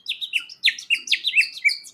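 A small 3D-printed bird whistle blown in quick bursts gives a series of about nine bright, chirpy warbles in a fast, even rhythm, close and clear, imitating birdsong without any talk.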